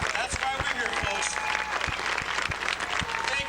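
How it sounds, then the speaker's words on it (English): A Memorial Day parade crowd claps steadily for veterans, a dense, sustained patter of many hands with sharp nearby claps standing out, while voices mingle underneath. "I want to hear you guys clapping. Let's hear it for our veterans."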